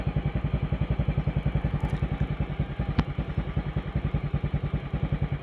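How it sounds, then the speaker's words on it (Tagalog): Motorcycle engine idling as it warms up, a steady rapid low putter with close, even pulses throughout and a single sharp click partway through. "Painitin ko muna yung motor ko."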